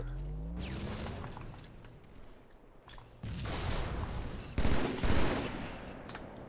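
Video game gunfire, rapid bursts of shots in a firefight, with louder, closer volleys in the second half and brief quiet gaps between them.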